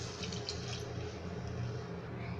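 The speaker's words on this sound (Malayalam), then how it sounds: "ഇനി ഇതിലോട്ട് നമ്മൾക്ക് 2 ഗ്ലാസോളം വെള്ളം ചേർക്കാം." Water pours steadily into a Kerala-style fish curry pot, a dense, continuous rushing splash heard up close with no pauses.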